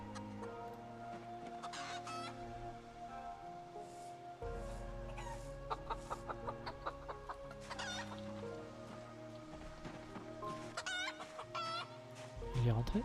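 Chickens in the video game Project Zomboid cluck in repeated bursts over a steady bed of game music and ambience, with a voice talking now and then.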